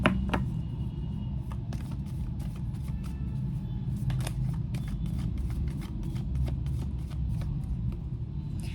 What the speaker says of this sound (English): let me pull a few cards from this as well